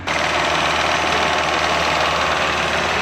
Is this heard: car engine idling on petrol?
yes